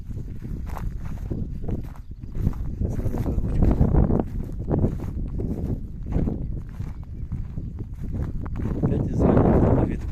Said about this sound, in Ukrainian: Тепер опять вітер.